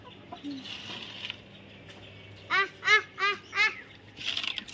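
Chickens being fed rice give four clear, evenly spaced clucks in a row near the end. A few fainter sounds come before them, in a quiet outdoor setting.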